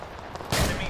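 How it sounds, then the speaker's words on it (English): A grenade exploding in the war shooter Total Conflict: Resistance, a sudden loud broadband blast arriving midway after a brief quieter lead-in. "That's a grenade."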